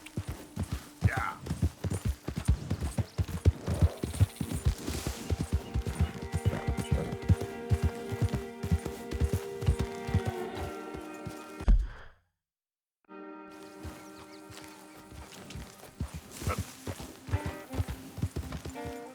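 A horse gallops in Red Dead Redemption II, a steady rapid clip-clop of hooves with snorts and game music over it. The hoofbeats stop briefly, then the horse moves again more softly.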